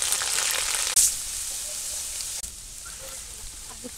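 Ginger garlic paste with cinnamon and cardamom hits hot oil in a pan, giving a steady hissing sizzle that is loud at first and then settles lower, with a couple of sharp clatters.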